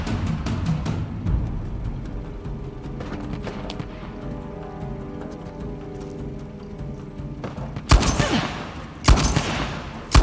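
Gunfire in the action game Uncharted: The Lost Legacy, a steady patter of distant shots under ambient noise, then two loud close bursts near the end.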